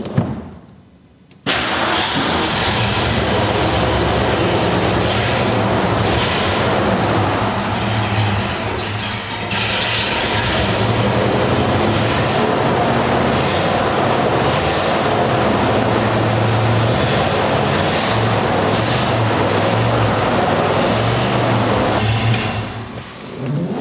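An engine fitted with a new carburetor catches abruptly after a moment of near silence and keeps running loud and steady for about twenty seconds, its rough rumble dipping briefly and then fading slightly at the end.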